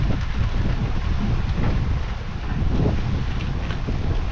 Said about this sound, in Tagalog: Lakas ng hangin po.